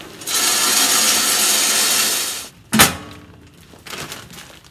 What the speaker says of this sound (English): We're gonna be using these hardwood pellets, competition blend. We'll fill up the hopper.